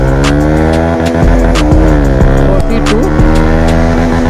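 A Bajaj Pulsar motorcycle fitted with an Akrapovic exhaust accelerates on an Independence Day ride, its loud, close engine droning steadily and climbing in pitch as a rider briefly speaks over it.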